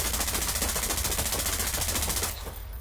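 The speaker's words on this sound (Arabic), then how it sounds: "لو انت جيت هنا وضربت من هنا طلقة الرشاش" Automatic machine-gun fire from Splinter Cell Blacklist: a loud, rapid, continuous stream of shots that runs steadily and then cuts off near the end, leaving a quieter tail.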